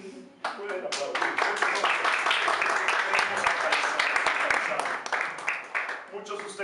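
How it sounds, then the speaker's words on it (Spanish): An audience claps loudly for about six seconds during a staged theatrical play, the dense applause starting abruptly, holding steady, then thinning into scattered claps at the end. "Por favor, no contengan sus aplausos. Pueden aplaudir."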